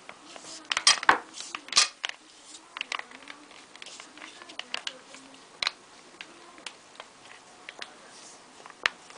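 A spoon stirs an eggplant salad with mayonnaise in a bowl, giving irregular close clinks and scrapes against the dish, louder at first and then sparser and softer.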